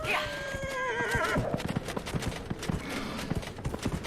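A summoned horse in Dragon Age: Inquisition, in the Emerald Graves, gives a wavering whinny, then its hooves clip-clop steadily as it trots close by.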